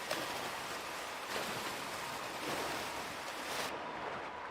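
Olympic swimmers at London 2012 pull hard through the water, making a continuous broad rush of churning, splashing water with soft surges, loud and without voices.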